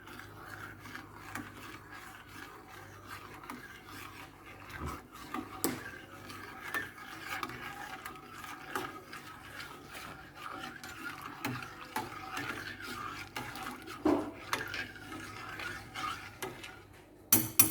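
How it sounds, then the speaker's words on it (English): Soft scraping and light clinks of a spoon stirring gelatin crystals into boiling water in a pot, quiet and irregular, with occasional sharper taps against the side. "As the water was boiling, just stir"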